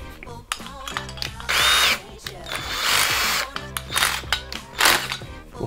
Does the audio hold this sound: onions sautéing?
no